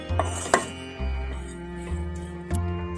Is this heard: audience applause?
no